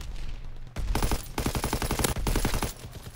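Loud rapid bursts of STG-44 assault rifle fire in the World War II shooter Call of Duty WWII, several close sustained volleys separated by brief pauses, with no talking.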